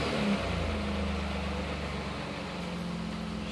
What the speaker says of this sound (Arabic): اشتغلت السيارة